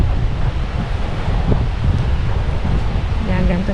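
Sea waves wash onto the shore in a steady, loud roar mixed with heavy wind buffeting the microphone, with a voice speaking over it.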